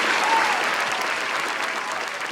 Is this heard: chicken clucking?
no